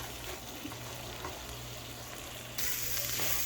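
Food frying in a pan on medium-high heat gives a steady, close sizzle with no voices, growing noticeably louder and brighter near the end.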